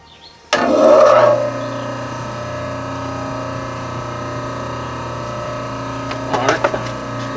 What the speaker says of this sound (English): you feed your blade and you just slowly start cranking down